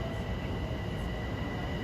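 A Long Island Rail Road commuter train from Huntington to Grand Central at Forest Hills station during morning rush hour, a steady rumble with a faint high whine and no pauses.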